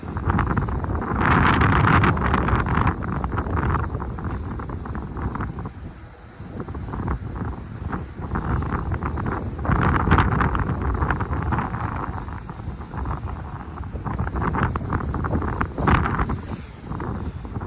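Strong, steady wind buffets the microphone during a DJI Mavic 3 drone flight, a loud broadband roar that surges and dips in gusts for the whole stretch, with no speech.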